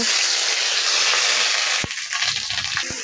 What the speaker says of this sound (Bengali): এবার এগুলো দিয়ে আমি একটু নাড়া দিয়ে নিচ্ছি